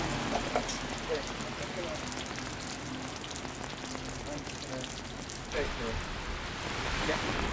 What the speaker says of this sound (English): today it's really grim and rainy